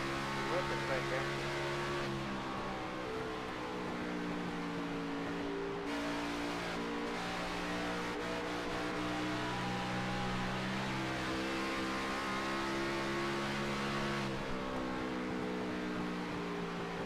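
A race car accelerates hard on a track, its engine note climbing in steady layered harmonics with brief dips as gears shift. A commentator talks over the roar the whole time.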